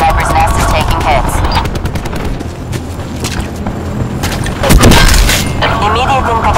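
Automatic gunfire bursts keep going through a Black Ops 4 multiplayer match, with a heavier blast near the end and a radio-style voice talking over the shooting.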